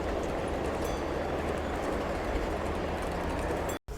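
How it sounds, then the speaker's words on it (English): A train rumbles past at Griffith Park with a continuous broad roar and faint rattling, steady and nearby, before cutting off abruptly near the end. "we gotta wait for these trains to cross"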